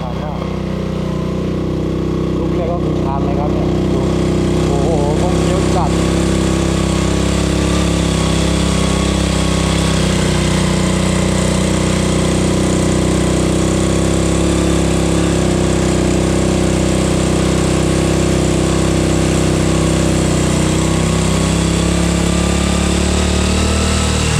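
A vehicle engine labours steadily in first and second gear while climbing a steep mountain road, a loud continuous drone that holds at a constant strain throughout.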